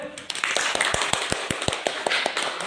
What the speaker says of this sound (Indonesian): terus tepuk tangan dulu